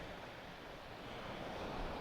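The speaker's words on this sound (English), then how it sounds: "Looks pretty clear, nice chop on the water." Sea waves at Shoreham Beach give a continuous broad wash of surf and choppy water, softly swelling near the end, with some wind noise and no voices.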